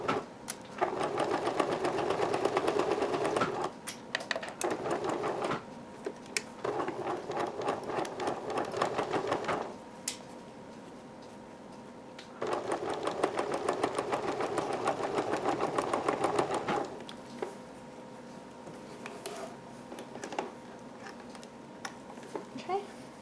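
A domestic sewing machine stitches a sleeve seam on a girl's nightgown, running in several sustained bursts of steady whirring with short pauses between them and a softer stretch near the end.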